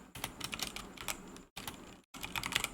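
Rapid clattering keystrokes on a computer keyboard, close and fairly loud, in quick irregular bursts with two brief pauses of silence.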